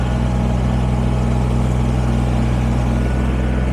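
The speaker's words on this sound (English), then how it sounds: "I like tractor time" A Kubota BX23S compact tractor's engine runs steadily up close, a loud continuous mid-pitched drone with no talk over it.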